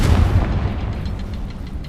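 A Confringo spell explodes in Hogwarts Legacy, a deep rumbling blast with crackling debris that fades into steady low rumble, loud and near with no voices.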